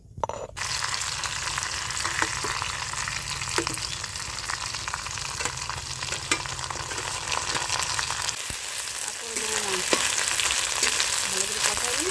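Spice paste frying in a pan for a village-style desi chicken curry, a steady dense sizzle throughout with a few scrapes and clinks of stirring, close and continuous with no talk.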